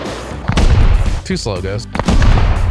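Gunfire in the Rust video game: two sharp, loud reports ring out close by, one early and one near the end, with someone talking between them.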